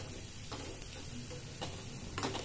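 Grated coconut is stirred and roasted over a low flame in a pan for Kannur-style jackfruit erissery, giving a soft steady sizzle with occasional light scrapes and taps of the spoon.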